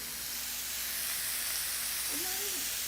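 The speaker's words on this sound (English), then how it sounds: "just kind of let it sit and sear" Burger meat searing in a pan gives a steady, fairly quiet broadband hiss that holds evenly throughout, with a brief faint tonal sound near the end.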